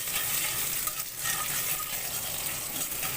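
Spice paste with cardamom, cinnamon and cloves frying in oil in a pan for pulao, a continuous, close, hissing sizzle with bubbling texture that stays steady for the whole stretch, no voices.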